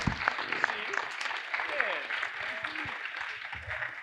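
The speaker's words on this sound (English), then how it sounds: "Let's hear a round of applause for these guys." A crowd claps for panelists at a cultivation event, the applause fairly faint and scattered, with voices and chatter mixed in throughout.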